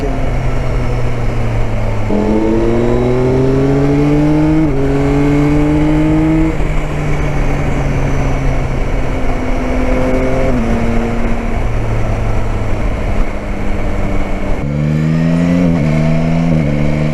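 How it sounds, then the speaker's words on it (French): A 2021 Yamaha Tracer 9 GT motorcycle exhaust revs repeatedly, the engine note climbing and dropping in several loud bursts with a steady rumble between them, close by. "La sonorité de l'échappement est dingue."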